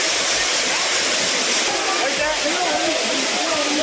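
Courtallam waterfall thunders steadily and loudly as tourists bathe beneath it, a dense unbroken roar with voices mixed in underneath.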